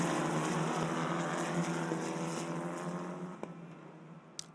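E4 Championship single-seater race cars roar along at Paul Ricard in a steady, loud engine drone that slowly fades, with a couple of brief clicks near the end and no commentary.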